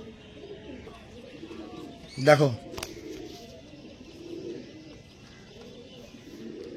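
Tippler pigeons of the Andhra type coo softly at close range, with one brief louder burst of calls near the middle; someone speaks a single short word.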